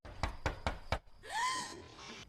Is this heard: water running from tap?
no